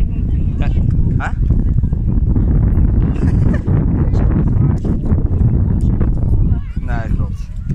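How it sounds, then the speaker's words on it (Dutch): Strong wind gusting across a beach, roaring steadily and buffeting the microphone throughout, with people talking close by over the rumble. "Oei, de wind."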